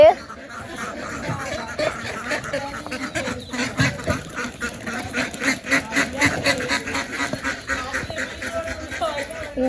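Ducks quack repeatedly in a busy, chattering stretch, with people talking and laughing over the flock.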